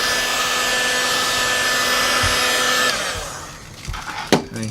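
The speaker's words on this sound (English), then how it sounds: "I'm gonna get my heat gun first" A heat gun blows hot air onto tint film on a Nissan Xterra taillight, a loud steady whooshing drone that cuts off partway, leaving a few thumps and light handling clatter.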